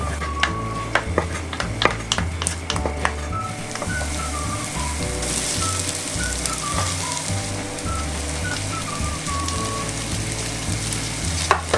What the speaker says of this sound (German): können wir jetzt Zwiebeln anbraten